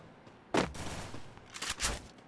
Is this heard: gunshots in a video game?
yes